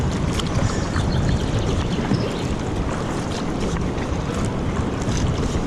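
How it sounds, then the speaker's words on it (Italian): Water falling and rushing beside an inflatable Gumotex Swing 2 kayak on the Adda river: a steady, loud broadband wash with wind buffeting the microphone throughout, no voices. "ma l'acqua cade, precipita"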